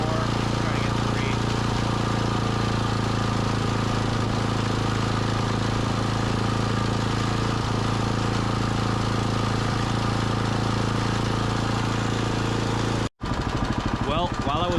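A Gravely Model L tractor's repowered engine runs at high speed, a loud, steady, close mechanical roar that holds constant before a brief dropout and a short burst of talk at the end.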